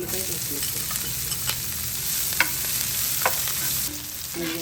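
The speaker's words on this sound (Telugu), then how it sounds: "ఇప్పుడు మసాలా దినుసులు వేస్తాను ఉల్లిపాయ" Onion and whole spices fry in hot oil in a home kitchen, a continuous close sizzle broken by a few scraping stirs of a spoon.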